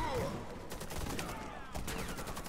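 Bursts of sniper and other gunfire in a Warface co-op match, several sharp cracks and fusillades over a dense battle din, fairly loud, with a voice speaking partly over it.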